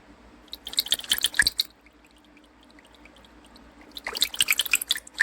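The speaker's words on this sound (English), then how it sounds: "add little water to it." Water splashes and trickles into a container in two short bursts separated by a quiet pause, close and fairly clear.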